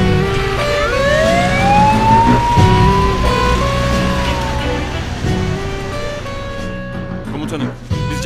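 A wailing ambulance siren sweeps up and down through a dramatic scene, loud and continuous under people talking and background noise, then fades near the end.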